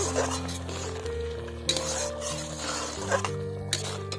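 A spoon stirs date, mango leather and tomato chutney in a pan with ground roasted panch phoron spice, giving soft scraping with light sizzling and a few clinks against the pan, close and steady with no talking.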